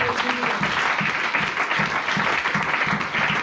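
A church congregation claps in a brisk, regular rhythm, a dense and steady sound with voices mixed in.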